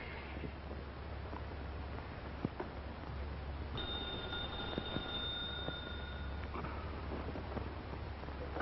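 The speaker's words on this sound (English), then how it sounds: "Elliot, phone for you" A telephone rings in a 1945 classic mystery radio drama: one steady electric ring of about three seconds midway, heard over a constant low hum and hiss.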